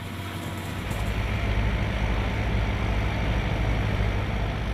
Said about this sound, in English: What you're looking at coming towards you is the harvester. It's pulled with a tractor